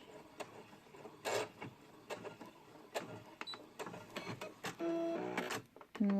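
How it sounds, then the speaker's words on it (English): A sewing machine back stitches a dress seam in short mechanical bursts of rapid clatter, with pauses and ticks between runs, close and fairly quiet. "And then back stitch."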